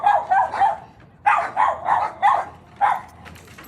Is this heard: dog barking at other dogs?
yes